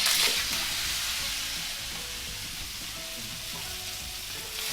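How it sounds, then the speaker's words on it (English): Egg noodles fry in oil over low heat for a chow mein, a soft, even sizzle and crackle that holds steady from start to finish, with no voices. "right now I'm cooking my egg noodles"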